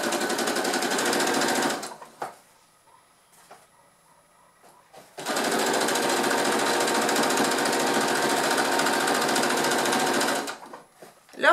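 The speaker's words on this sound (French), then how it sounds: "On est parti pour la couture, on n'oublie pas notre point d'arrêt. On coud à 1" A domestic sewing machine stitching fabric for a reusable cloth shopping bag 1 cm from the edge: a loud, close, buzzing run of stitches, a quiet pause of a few seconds, then a second long run that stops abruptly.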